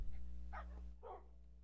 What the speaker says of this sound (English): Yee, baby dogs.